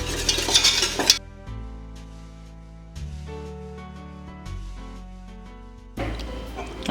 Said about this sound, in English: So we add on that as well. I'm going to give this a quick mix.